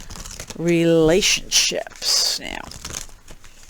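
Tarot cards being shuffled by hand in a few quick crinkling, riffling bursts, with someone talking over them.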